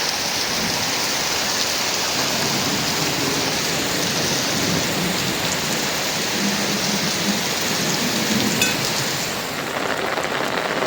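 Heavy rain pours down steadily in a storm at an outdoor cooking spot, a dense, loud and even hiss of drops with no break across the stretch.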